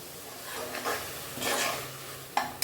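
Shallot, ginger, garlic, mint and green chilli paste sautéing in oil for biryani, stirred in a few scraping strokes over a soft, steady sizzle, with a sharp utensil clink near the end.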